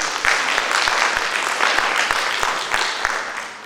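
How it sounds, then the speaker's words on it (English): An audience gives a dancer a warm round of applause after her Bharatanatyam arangetram performance, with close, dense clapping running throughout and soft low thumps recurring at an even pace beneath it. "give another round of applause for Varsha"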